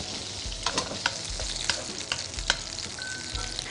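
Garlic frying in hot oil for stir-fried cabbage with fish sauce, a continuous sizzle broken by sharp clicks and scrapes of a utensil against the pan, fairly close, with no talk.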